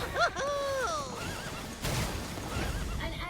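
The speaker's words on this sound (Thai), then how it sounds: "ควบม้ามาแล้วอย่างรวดเร็ว" A horse whinnies loudly with a rising and falling neigh as it charges in the Marvel Super War battle game, followed by softer galloping and combat effects while a commentator talks excitedly.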